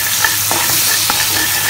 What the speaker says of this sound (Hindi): बटर में 1 टेबलस्पून ऑल पर्पज फ्लावर में कुक करना है.